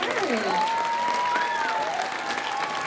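Audience applause at a Hersheypark sea lion show, a steady wash of clapping that fills the whole moment, with a sea lion's whistle-like calls or a trainer's whistle gliding above it.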